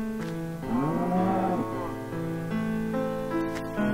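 A sheep in Minecraft Xbox 360 Edition lets out one drawn-out, wavering bleat over steady game music, close and fairly loud, followed by the music carrying on alone.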